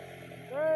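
A four-wheeler engine revs up to high RPM, its droning tone climbing and then holding steady, loud and close, over a brief moment.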